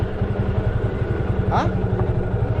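A motorcycle is ridden down toward a village pond, its engine chugging loud and close with a steady pulsing rhythm, and a voice briefly speaks over it.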